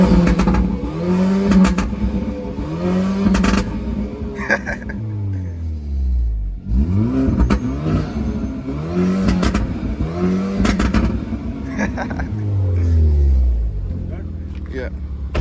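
Engine and exhaust of a Hyundai Kona N in N mode, loud repeated revs rising and falling in pitch, with a heavy low-end drone and sharp crackles between pulls, up close; people talk over parts of it.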